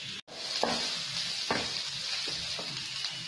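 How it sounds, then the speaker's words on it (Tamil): Chopped big onions sizzle steadily in a hot pan for a Tamil broad bean stir-fry, with a few soft stirring knocks over the constant frying hiss and no talking. "பெரிய வெங்காயத்தை கட் பண்ணி வச்சிருக்கேன், அதை போட்டு வதக்க வேண்டியதுதான்."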